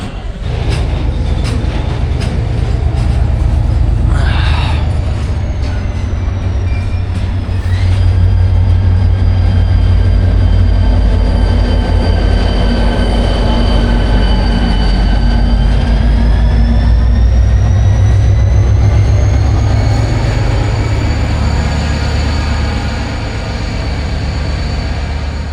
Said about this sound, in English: this container train is kind of coming to life.